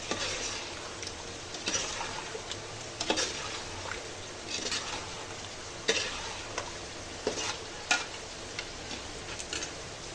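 Chicken and a cup of yogurt being mixed for biryani, with soft wet stirring scrapes and occasional light clicks against the pot over a steady faint background hiss.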